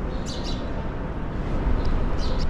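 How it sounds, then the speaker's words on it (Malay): Faint bird chirps come through a couple of times over a steady, loud background rumble at the Masjid al-Haram, Mecca, with short high tweets near the start and end. "Tengok bunyi burung."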